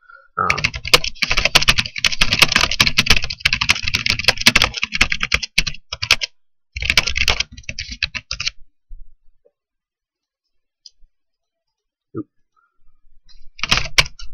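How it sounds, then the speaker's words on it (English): Rapid typing on a computer keyboard, dense bursts of clicking keys for several seconds, a brief pause, another burst, then near silence with a few isolated taps before typing resumes, close and loud. "let me type this out real quick"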